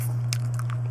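Crisp, brief bites into caramel-coated popcorn and peanuts (Cracker Jack), a couple of close, crunchy snaps over a steady low hum.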